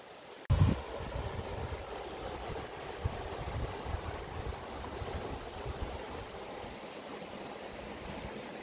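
Black River in Jamaica flowing steadily, a broad, continuous rush of water with wind-like noise, beginning with a brief bump and then holding an even level with no talk.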